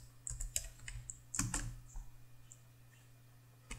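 Keys clatter on a computer keyboard while Java code is typed, in short bursts of quiet close clicks with brief pauses between them, over a steady low hum.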